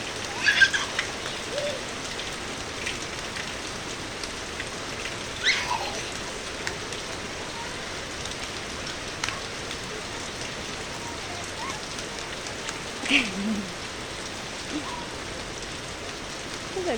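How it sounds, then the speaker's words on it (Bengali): Soft, steady rain falls outdoors as a faint, even patter, broken now and then by brief distant bird calls. "দেখো সবাই কিন্তু বৃষ্টিতে ভিজছে"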